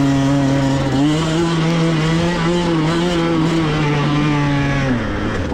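A dirt bike on a race track at Twin Hills screams at full throttle close by, its loud engine note climbing steadily through the gears with brief dips at shifts, running continuously without talk.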